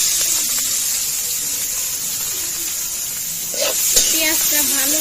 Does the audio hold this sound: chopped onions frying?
yes